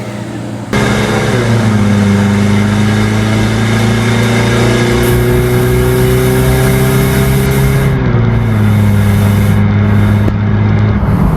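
Diesel pickup trucks with Toyota 1KD and 2KD engines at a drag race. A loud, sustained engine drone climbs steadily in pitch under acceleration, then shifts down near the end as revving continues.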